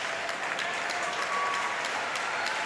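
Steady, dense audience applause fills a para table tennis men's singles MS1 semifinal venue, sustained and fairly close throughout without any voices.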